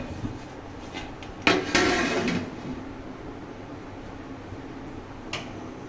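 Lid placed over a cooking pot on a home stove: a single clattering metal clank and scrape, close and fairly loud, followed by a faint tap and quiet background hum.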